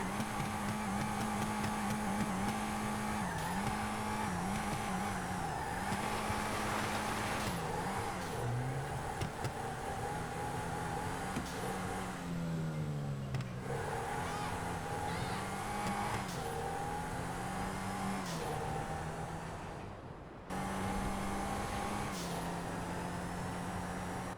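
A modified street car in GTA 5 is driven fast, its engine holding a steady loud roar with rising and falling revs and gear shifts, plus a brief dip near the end.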